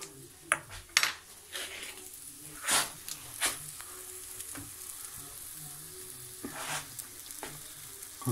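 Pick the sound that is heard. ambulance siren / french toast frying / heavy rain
french toast frying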